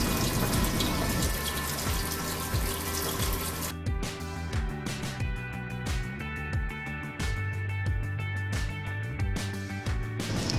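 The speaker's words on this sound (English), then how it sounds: "If a chemical hits your eyes, wash them immediately in an eye wash fountain." Water running from an eye wash fountain in a lab, a steady splashing stream heard close up with rhythmic dripping and bubbling patterns throughout.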